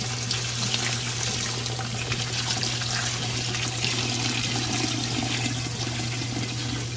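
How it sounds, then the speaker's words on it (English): A gallon of water is poured slowly into a cooking pot for a low country seafood boil, giving a steady, continuous rushing splash throughout with no talking. "He's gonna put a whole gallon of water in here for us."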